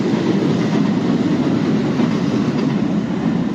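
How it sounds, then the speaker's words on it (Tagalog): A long train rumbles steadily past, close by, its wheels clattering continuously on the rails with no break in the noise. "Sobrang haba po ng tren."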